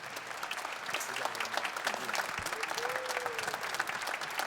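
Audience round of applause welcoming a singer at a country music evening devoted to one artist's songs, steady dense clapping throughout with crowd noise and a few voices underneath.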